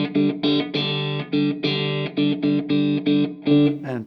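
Electric guitar through a Strymon Iridium amp modeler with the middle control turned down, a run of clean, sustained notes and short chords played in a steady phrase, close and alone, ending in a quick slide.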